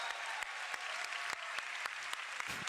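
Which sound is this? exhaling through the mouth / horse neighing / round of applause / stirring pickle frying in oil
round of applause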